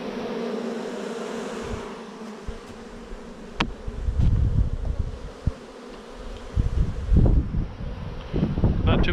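A loud, close swarm of honeybees hums continuously at a freshly installed hive while gusts of wind rumble against the microphone in bursts, growing stronger toward the end.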